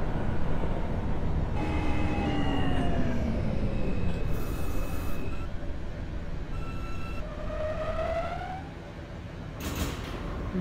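A simulated R160 G subway train runs on a New York line, a steady low rumble carrying rising and falling tonal whines from the motors, with bright squeals and hisses breaking in near the middle and end.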